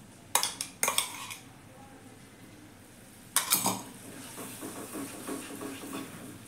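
Spice paste and tomato paste being sautéed in a pan, with a few loud metallic clanks of a utensil on the pan at the start and again midway, then a soft low sizzle with light scraping.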